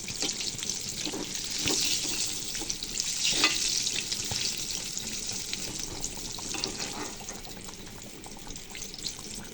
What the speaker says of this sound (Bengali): তারপর একে একে সবগুলো বেগুন দিয়ে দিলাম উল্টিয়ে পাল্টিয়ে ভালো মতো ভেজে তুলে নিলাম